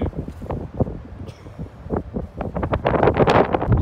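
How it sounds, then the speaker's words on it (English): Strong gusts buffet the microphone on a windy outdoor run, loud rumbling bursts rising and falling and growing heavier toward the end, with no clear talk. "You have to speak up. It's really windy."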